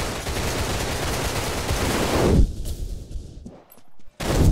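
Heavy gunfire in a video game roars loud and continuous as a dense wash of shots, then breaks off abruptly into near silence before a final short burst.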